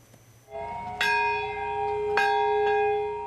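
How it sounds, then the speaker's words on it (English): A large bell tolls at the Nagasaki atomic bomb memorial ceremony in August 2024, with about three ringing strikes whose long, humming tone sustains between them, loud and clear over a quiet outdoor background. "The bell tolls at 11:02 a.m."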